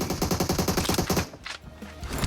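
Rapid automatic gunfire in PUBG, a steady burst of rattling shots, then a pause with a couple of sharper effects and lighter game sounds, heard through KZ in-ear monitors.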